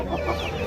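A young rooster clucks at a busy Saturday livestock market in Mydukur, Kadapa, with a short, close burst of clucking over steady crowd murmur.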